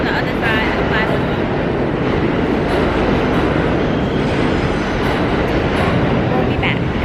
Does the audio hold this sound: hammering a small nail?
no